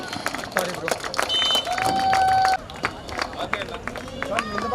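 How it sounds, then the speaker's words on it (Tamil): An audience at an Isha Gramotsavam village sports festival event claps in a dense patter of scattered hand claps. A voice talks over it through an amplified system, with brief whistle-like tones and crowd noise mixed in. "உங்களுடைய பலத்த கைத்தட்டல் சத்தம் பத்தலையே"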